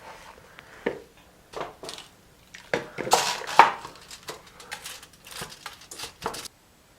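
A prime rib roast is shifted into a roasting pan, with a series of close metallic clanks, scrapes and soft thuds against the pan coming in irregular bursts.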